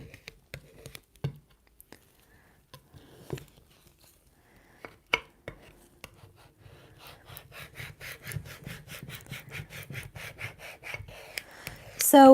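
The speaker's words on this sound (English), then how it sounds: "push the lines of the stencil down really well" Vinyl stencil being pressed and rubbed down onto glass makes sparse soft taps and scrapes, building into denser close rubbing and squeaking toward the end.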